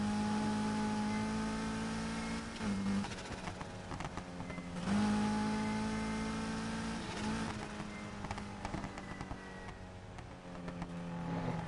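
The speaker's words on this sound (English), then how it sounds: "this car sounds kind of weird because it's got the 4-cylinder and it's hybrid too" A hybrid four-cylinder car engine in Need for Speed Heat drones steadily, whirring and shifting pitch as it accelerates, with a buzzy electric-toned hum; continuous and fairly quiet, no talking.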